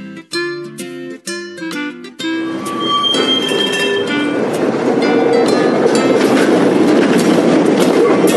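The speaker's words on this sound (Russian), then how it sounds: "По рельсам бегает трамвай." A tram running along rails, a loud, steady rumble with a metallic clatter of wheels that follows a few sharp musical notes and continues to the end.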